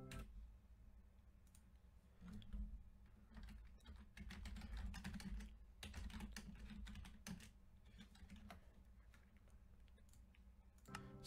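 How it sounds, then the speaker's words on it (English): Fingers rattle out a message on a computer keyboard in quick bursts of close, light key clicks, some stretches dense and others sparse, with no talking. "Let me just quick type in a message here."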